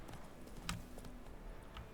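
Faint, rhythmic hoof clip-clops of a horse in The Witcher 3 video game moving at an easy pace, with a few sharper clicks mixed in.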